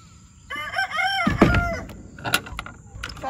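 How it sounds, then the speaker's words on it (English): A rooster crows nearby, giving one drawn-out call, with clucks and a door banging around it in a backyard chicken coop. "the crowing's too much sometimes."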